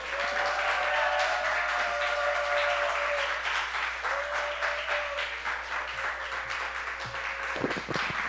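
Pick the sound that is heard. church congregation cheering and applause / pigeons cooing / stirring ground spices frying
church congregation cheering and applause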